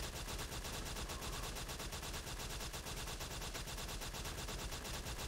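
The BioT Spider Venom Rifle fires in the LifeAfter game as rapid automatic gunfire, a dense stream of evenly spaced shots rattling for several seconds at low level.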